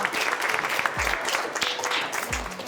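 A studio audience claps steadily through a comedy talk show, with close, continuous applause and a few low thuds beneath it.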